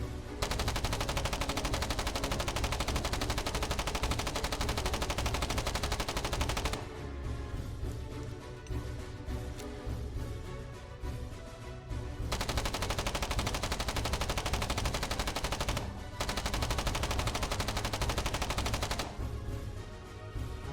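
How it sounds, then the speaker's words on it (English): The Liar submachine gun in the Foxhole war game fires in long continuous automatic bursts, loud and close, with brief pauses where the rattle drops to quieter shots before resuming. "The Wardens receive the number 1, the Liar, submachine gun."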